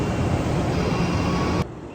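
A jet aircraft passes overhead, its broad, steady roar loud and continuous before cutting off abruptly near the end, with no voices over it.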